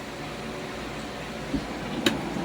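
An air-conditioning unit's blower runs with a soft, steady whooshing hum, faint and even, broken by a light click and a short sharp tick near the end; no talk.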